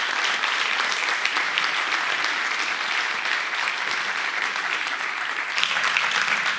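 Audience at a conference on buildings and biodiversity applauding a guest coming on stage, a dense, steady, loud wash of hand clapping from a full room that carries on evenly throughout.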